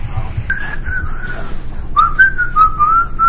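A person whistles a simple melody, The Goonies 'R' Good Enough, in clear, sustained notes, pausing briefly midway before continuing.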